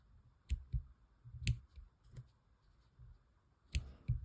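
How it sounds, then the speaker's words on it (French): Small scissors snip tatting thread flush against lace, giving a few sharp, close clicks spaced unevenly in a quiet room. "Je viens couper à ras."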